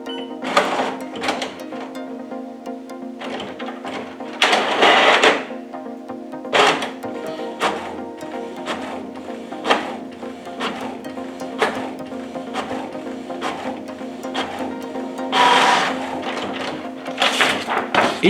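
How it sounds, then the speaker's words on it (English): A Canon MAXIFY GX7000 inkjet printer runs a nozzle check test page, with a steady mechanical hum under bursts of rapid clicking and whirring as the print head shuttles back and forth, plus occasional louder clunks of paper feeding. "The first option is nozzle check print, which is the test print for the print head."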